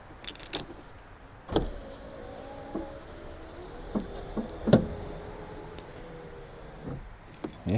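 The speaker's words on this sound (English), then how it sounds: "Get the key to go in properly." A key jiggles and scrapes into the lock of a 1996 Toyota Hilux Surf, with close metallic clicks, jangling and a few knocks over a low background hum.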